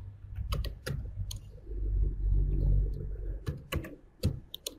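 Quick clicks of keys on a computer keyboard while entering an Excel formula, irregular close taps in short bursts over a low background hum, no talking.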